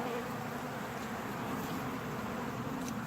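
Honey bees buzz in a continuous, dense drone, a soft steady swarm hum with no pauses, moderately faint and close.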